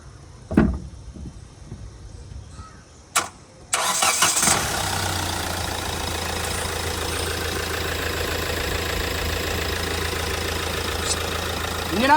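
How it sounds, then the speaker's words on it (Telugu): A 2017 Hyundai Creta 1.6 SX diesel sits with a couple of thumps before its engine cranks and catches. It then settles into a steady, close diesel idle rumble. "ఒకసారి సైలెంట్గా ఈ యొక్క స్టార్టింగ్ నాయిస్ని వినండి."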